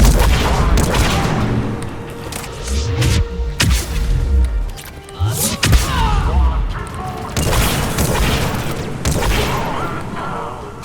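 Disciple shotgun blasts in the Mass Effect video game, heavy booming shots among dense combat noise, explosions and game effects, with a voice talking over the action.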